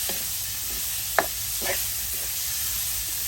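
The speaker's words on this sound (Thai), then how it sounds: "ผัดกับกระเทียมเกียว" Pork pieces stir-fry with garlic in a hot pan, giving a continuous loud sizzle broken by a few brief scrapes of stirring.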